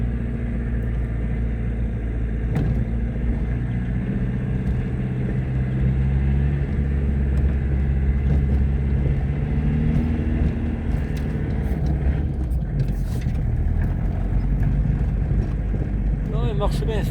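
A car engine runs steadily during a countryside drive, a loud, continuous low rumble heard from inside the vehicle beneath ongoing conversation.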